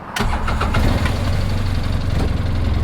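A side-by-side utility vehicle engine cranks and catches, then settles into a loud, close, steady idle with a fast rough chugging pulse throughout.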